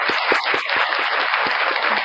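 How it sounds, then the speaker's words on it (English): Dense, steady applause from a small audience fills the full two seconds, with individual sharp claps standing out against the continuous wash of hand noise. "Round of applause for Leo."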